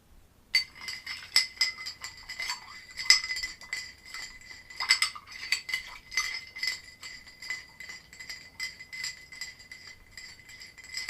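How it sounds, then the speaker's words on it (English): An absinthe cocktail being stirred with ice in a glass: steady, rhythmic clinking and rattling of ice and spoon against the glass for about ten seconds, close and fairly soft, with no talking. "Give it a stir."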